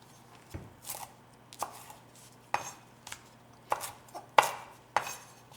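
A knife slicing seeded, membrane-trimmed vegetable pieces lengthwise into smaller strips on a cutting board for steak fajitas, a series of about eight sharp, separate chopping taps at an irregular pace, close and fairly quiet, with no speech.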